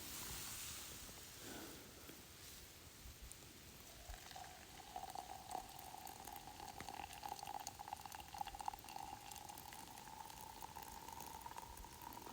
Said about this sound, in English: Looks like we got a boil.